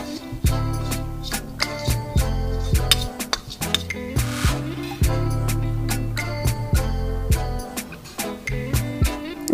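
Corn kernels being stir-roasted in a pan with chat masala: a spatula clinks and scrapes against the metal in an irregular series of sharp taps over a steady low rumble.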